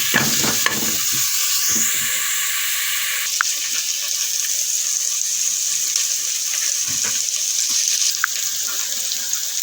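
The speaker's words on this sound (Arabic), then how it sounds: "معانا بصلاية صغيرة فيها فصين توم متقطعين قطع صغيرة سلايس في قلب الحلة بتاعتنا، ونديهم تشويحة" Small onion and two sliced garlic cloves sautéing in a pot, a steady close sizzle with occasional stirring knocks at the start, no voices.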